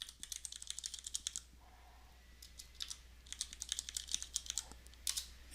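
A password is typed on a computer keyboard, bursts of quick close key clicks separated by a short pause, over a low constant hum.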